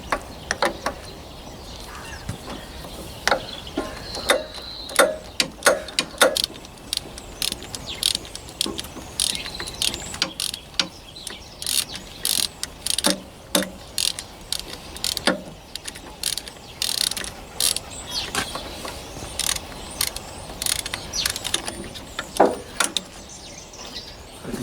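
Ratcheting socket wrench working a bolt loose on a Massey Ferguson 135 tractor during a starter motor change, with repeated sharp metallic clicks in uneven bursts, close and fairly loud, no talking.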